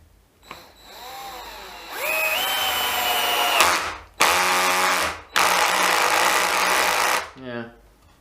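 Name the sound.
DeWalt DCF610 cordless screwdriver driving screws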